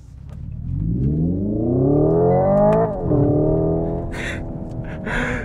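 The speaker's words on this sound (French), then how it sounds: "Ça fait très bizarre de rouler en électrique avec un bruit de thermique." Hyundai Ioniq 5 N electric car playing a simulated combustion engine sound, a synthetic engine note revving up in rising pitch, dipping briefly as if shifting gears, then climbing again at loud, steady volume.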